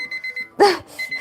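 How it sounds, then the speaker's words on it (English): A timer alarm goes off during a live Etch A Sketch drawing session, repeating short steady electronic beeps, with a sharp startled yelp from a person cutting across the middle. "I got scared by the sound of my own timer."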